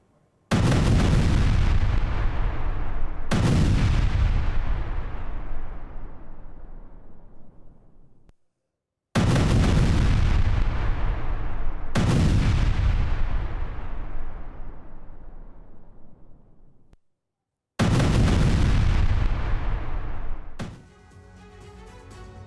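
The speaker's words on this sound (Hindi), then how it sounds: "भारी विस्फोट से मस्जिद को उड़ाने का दावा किया जा रहा है।" Heavy blasts from a strike on a mosque in Lebanon: four loud, deep booms, each with a long rolling decay, spaced several seconds apart, the last followed by crackling debris.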